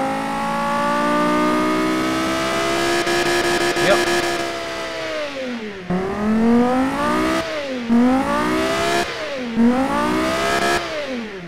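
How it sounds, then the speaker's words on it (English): Car engine in the racing sim Automation revving up and down through its rev band, a loud harmonic whine climbing steadily then dropping and rising again in several quick sweeps, with a brief voice over it. "It is revving all the way through its rev band"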